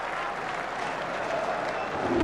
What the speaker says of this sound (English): This crowd have gone absolutely wild.